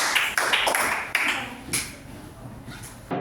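Scattered applause from a small classroom group for two students, with sharp, uneven claps rising and fading over a few seconds and a short quiet gap before a final clap.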